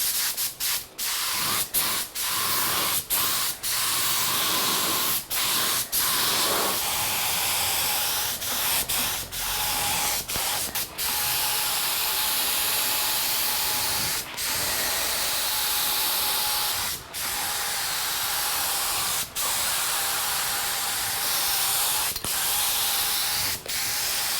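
A spray gun lays slow-reduced clear coat with slow hardener onto the edges of a car, giving a loud, steady hiss broken by short cut-offs between passes, with no talking.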